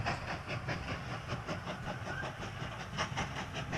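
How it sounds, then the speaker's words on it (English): A little train in the Mashinky video game runs along the track in 3D view, producing a steady rolling rumble with a rhythmic clickety-clack that continues for several seconds without talk. "Now a little train will come out."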